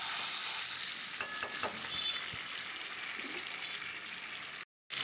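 Chicken and pre-fried potatoes sizzle steadily in a hot pan while being sautéed for a chicken curry, a continuous close frying hiss with a few clinks of stirring and no talk.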